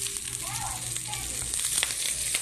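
Garlic and onion sautéing in a pan for a mung bean dish, a close, steady sizzle with a few stirring scrapes and a brief voice in the background.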